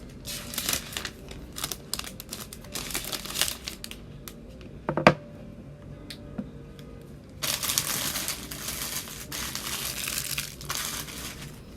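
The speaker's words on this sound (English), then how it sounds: "So let's go ahead and unwrap the MacBook Air." Plastic wrap comes off a new 2020 MacBook Air: close crinkling and crushing rustles in irregular bursts, with a sharp snap midway and a denser, louder crumpling stretch toward the end.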